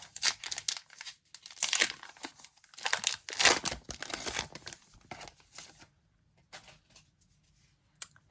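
Crinkling and tearing of a Lorcana trading card booster pack wrapper, close and crisp in repeated bursts, then quieter handling and a single small tap at the end.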